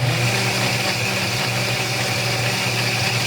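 An electric whisk froths a cacao drink, giving a constant close motorized whir that stays steady and fairly loud throughout without any talking.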